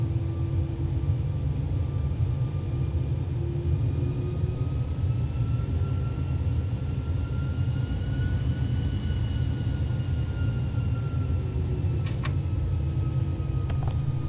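Airbus A319 jet engines idling in the X-Plane flight simulator, a steady low rumble with a faint whine layered above it, holding constant throughout with no talk.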